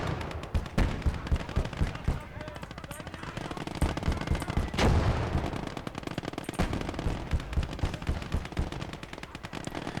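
Bursts of sniper or machine gun fire in the WWII game Call to Arms: Gates of Hell, rapid rhythmic cracks and thumps with a heavier blast midway over continuous battlefield rumble.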